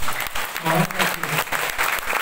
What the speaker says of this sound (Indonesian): Mana tepuk tangannya nggak kedengeran?